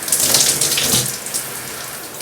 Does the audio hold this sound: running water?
yes